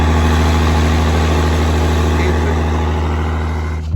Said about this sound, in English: This right here is the motor. It's a Cat 3406. It's actually what powers the well